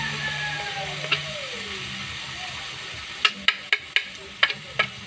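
Onion sautéing in a pan, a soft continuous sizzle broken near the end by a quick series of sharp utensil clicks against the pan.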